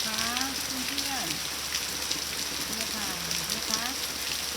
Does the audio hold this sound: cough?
no